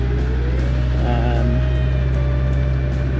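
A car with deflated tyres rolls onto the Mabua sand track in the Kgalagadi, heading toward dunes. Its engine hums loud and steady from inside the cabin, with a low drone and a gradually rising note.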